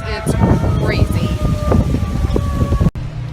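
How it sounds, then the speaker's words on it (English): Sirens wailing during Hurricane Irma in St. Cloud, Florida: steady, drawn-out siren tones sounding at a distance beneath loud, buffeting wind noise on the microphone. "I've never heard so many sirens, and we hear sirens all the time."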